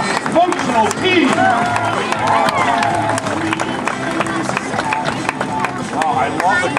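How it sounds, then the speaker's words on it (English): An outdoor crowd at a 2019 Ski Otters water-ski show applauds and cheers a performing team, with steady clapping and crowd noise running beneath continuous amplified talk. "one more round of applause for our cross-functional team"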